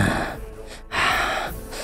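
Two men breathing hard after running, with heavy gasping breaths close by in two long bursts separated by a brief pause.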